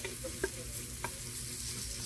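Onions sizzle quietly in a pan as they brown for a native chicken soup, a soft steady fry with a couple of brief stirring clicks.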